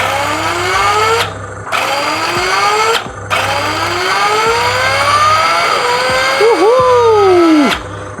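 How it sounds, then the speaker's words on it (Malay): A sound module in an RC car with an FL5 body plays simulated engine audio, loud rising revs that cut off and restart several times before a final swooping blip, with people talking underneath. "korang bayangkan ada bunyi enjin bro"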